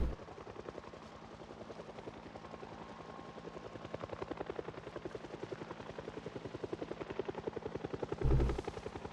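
Game helicopter in Project Zomboid, a steady rapid rotor chop thudding throughout at even rhythm, loud and sustained, with a brief heavier burst near the end and no voices.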